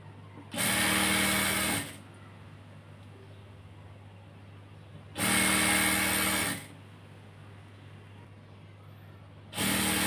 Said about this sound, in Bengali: এখন নিচের যে হ্যামটা আছে সেই হ্যামটা সেলাই করব।